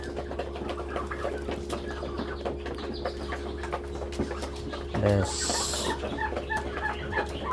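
Chickens cluck softly in a home setting during a vaccination session, low intermittent clucks under a steady background hum with a brief rustle near the end; a person speaks a word.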